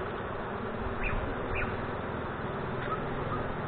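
Honeybees in a Malaysian beekeeping setting buzz steadily and close as they are moved into a small mini nuc box, a dense continuous hum with faint background noise and no talk.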